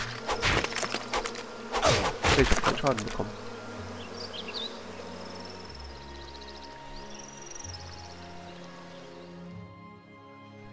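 Bees buzzing in a German-language video game, a dense droning hum loud over several seconds with a brief spoken line early on, then fading to quieter ambient game sound.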